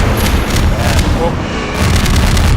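A loud, sustained boom of an explosion in Half-Life 2, a dense rumbling blast filling the whole moment with heavy low roar and crackling debris.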